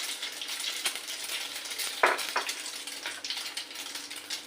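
Egg batter frying in a pan for a Bengali egg jhappa, with a steady sizzle throughout and a brief louder burst as more batter goes in; no talking.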